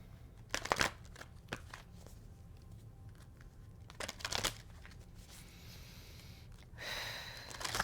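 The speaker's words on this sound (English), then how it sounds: "I'm going to pull an energy deck card for you guys" Energy oracle cards being shuffled by hand, quiet riffling and slapping bursts at irregular intervals with papery crinkles, close but soft, ending in a longer brushing shuffle.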